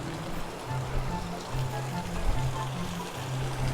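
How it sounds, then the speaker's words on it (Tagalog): Clear water flows in a stream below Taytay Falls on Mount Banahaw, a steady close rushing wash with a low murmur underneath, no voices. "Dito pa lang may umagas ng tubig"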